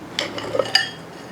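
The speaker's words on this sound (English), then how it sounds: "We're just going to take the cap off of it and look at it." Metal cap being removed from the cool hub of a 2009 Ranger boat trailer, a few close, sharp metallic clinks and taps, otherwise quiet.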